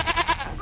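A goat bleating in a short, close, wavering cry with a few pulsing repeats, no talk.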